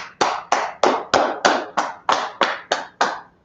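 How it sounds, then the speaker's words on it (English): Hands clap together in a steady rhythm at a Tuesday brotherhood class, about ten crisp, evenly spaced claps landing close and sharp with no voices over them. "Let's clap it up."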